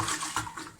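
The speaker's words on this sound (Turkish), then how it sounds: "bulaşık makinesine diziyorum." Washed dishes going into a dishwasher rack in a home kitchen: quick clinks of crockery and cutlery knocking together in a short, close burst under a second.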